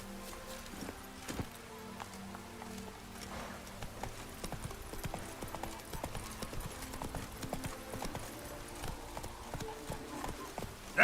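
Hooves of Roach, the horse in The Witcher 3: Wild Hunt, clip-clop in a quick steady gallop through a village, moderately loud under game ambience and soft music, with brief talk.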